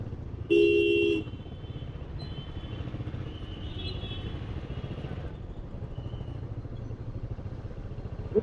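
Busy street traffic in Ujjain with rickshaws and scooters: one loud, close horn blast rings out early, then a steady engine rumble and passing motors continue, with faint distant honks.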